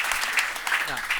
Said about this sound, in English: So maybe a round of applause for Seb.